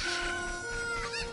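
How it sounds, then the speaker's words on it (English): Clucking and squawking from a chicken in the video game The Legend of Zelda: Ocarina of Time, heard in the village of Kakariko. The call comes as a short, close, bright burst with no voices. "And chicken!"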